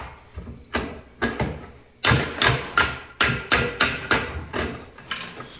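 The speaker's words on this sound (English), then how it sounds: "we're going to take a hammer and we're going to break off the rest of that flare there" Repeated sharp hammer blows breaking off a gas forge burner flare, about a dozen strikes in irregular bursts, close and loud with short ringing decays.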